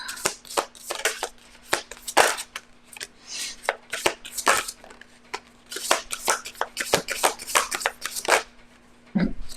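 A tarot deck is shuffled by hand close up, with quick bursts of riffling and flicking cards in an uneven rhythm, sharp slaps between the bursts and a low steady hum underneath.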